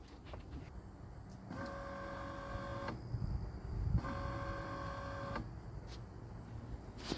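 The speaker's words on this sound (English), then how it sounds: "But I can hear the motors turning." The windshield wiper motors on a faulty Chevrolet Impala whir in two steady, buzzing bursts of a couple of seconds each, separated by brief pauses, while the wipers themselves stay still, close up and without talk.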